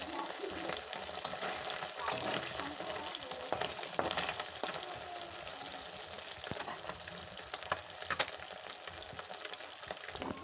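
Steady, busy sizzling of fish frying in hot oil, with crackles and pops throughout and occasional stirring, no talking.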